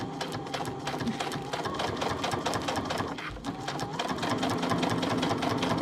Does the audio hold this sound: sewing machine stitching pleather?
yes